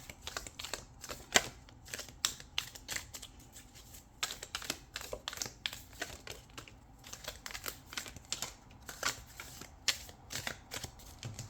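Tarot cards are shuffled and drawn, making repeated crisp riffling and snapping bursts in an irregular rhythm, close and moderately loud, with no one talking.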